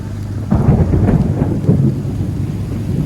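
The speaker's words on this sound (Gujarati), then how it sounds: "વાદળા પણ આટલા ગરજ્યા જોઈ લ્યો" A deep roll of thunder rumbles close by over steady rain during a storm at sea off Dwarka, heard from a fishing boat, swelling and fading across a few seconds with no talking.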